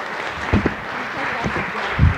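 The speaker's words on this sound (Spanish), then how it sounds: "Les damos un aplauso." A panel audience applauds the speakers at a Spanish-language talk on women's spirituality, service and leadership, a short burst of clapping lasting about two seconds.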